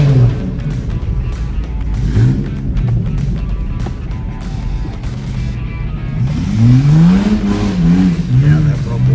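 A Chevy truck stuck and buried at an off-road park revs loudly in surging bursts, its engine rising and falling, while people talk over it nearby.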